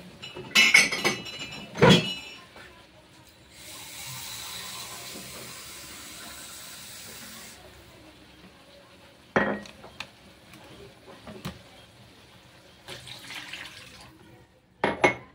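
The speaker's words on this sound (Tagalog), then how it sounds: "Lalagyan ko na yan ng sabaw." Broth is poured into a pot of chicken tinola, a steady splashing pour lasting a few seconds between sharp clinks and knocks of kitchenware, close and moderately loud.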